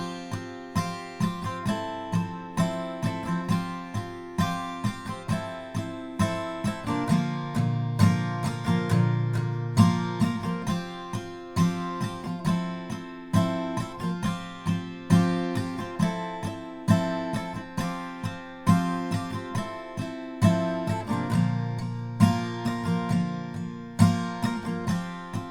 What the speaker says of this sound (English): the easy strummed verse goes like this